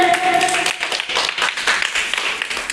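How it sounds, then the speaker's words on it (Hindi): A Class 6 school class claps for their teacher: a brisk round of many hands clapping, moderately loud, with a voice briefly audible at the start before the applause takes over. "जोरदार ताली बजाइए गुरु के लिए"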